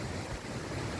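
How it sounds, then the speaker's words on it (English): Strong wind gusts past the microphone, a dense continuous roar and rumble filling the whole stretch at a steady loud level, with no voices. "it's too windy to do it right now."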